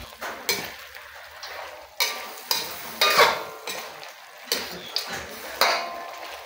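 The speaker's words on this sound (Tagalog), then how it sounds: "Maglagay na rin tayo ng hiniwang patatas. Haluin lang natin." Chicken adobo with sliced potatoes stirred in a pan, with a soft sizzle underneath and repeated scraping, clattering strokes of a utensil against the pan at an uneven rhythm, close and moderately loud.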